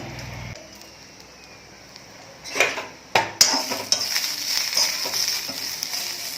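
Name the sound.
garlic added to roasted green chillies, frying and stirring in oil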